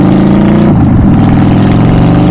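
A Honda Shadow motorcycle engine runs loud and close, a steady throbbing drone that shifts pitch briefly before settling back into an even hum.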